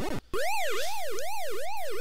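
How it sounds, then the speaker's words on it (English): A Bally Astrocade video game's electronic police siren wails in steady rising and falling sweeps, loud and alone after a brief blip of other game sound at the start. "it has the police siren like in the arcade game"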